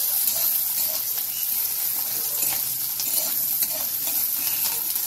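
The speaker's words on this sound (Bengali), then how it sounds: "এটা একটু ভালো করে ভেজে নেব" Chopped onion and garlic frying in hot oil in a pan, a steady close sizzle with crackle and occasional stirring scrapes, no talking.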